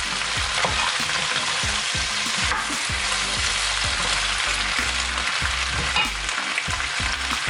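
Vegetables frying and being stirred in a pan, a loud, dense, continuous sizzle with rhythmic scraping and knocking of the utensil against the pan throughout, up close and with no talking.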